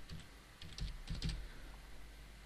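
An admin password typed on a computer keyboard while setting up an IP camera, heard as a short run of about half a dozen quick, close key clicks over a low background hum, with no talking.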